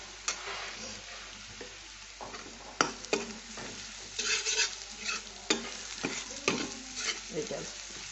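Spices such as turmeric, coriander, cumin and chilli powder being stirred in a hot frying pan, sizzling steadily with repeated close spoon scrapes and knocks against the pan.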